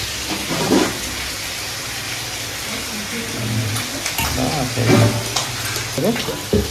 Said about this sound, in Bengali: এই তো ভালো মতন ভাজা হয়ে গেছে